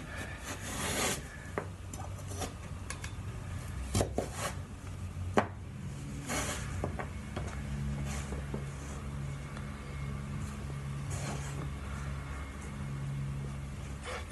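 A knife slices vegetables for soup on a cutting board, giving soft, irregular scraping cuts with a few sharper taps, quiet and close.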